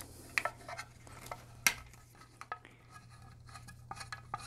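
A 3mm Allen key works bolts loose on the fin of a Torqeedo Travel motor, giving sharp metallic clicks and scrapes scattered irregularly over a low hum, close and fairly quiet.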